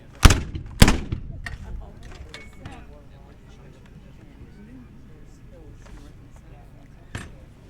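Artillery pieces fire a volley of three rounds: two loud, close booms in quick succession, then a fainter third report several seconds later, with shouted commands between them.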